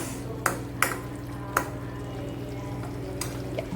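Salted food is stirred in a pan, with a few sharp utensil clinks and scrapes against the metal over a steady background hum, close and fairly quiet.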